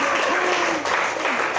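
Parents in a lecture hall clap together, a loud, dense, continuous burst of applause filling the room, with a voice briefly audible through it.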